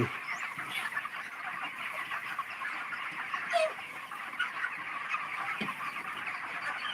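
Chickens on a poultry farm with brooding boxes for chicks, a steady bed of clucking and fowl calls with a brief louder squawk, moderately close and continuous without talk.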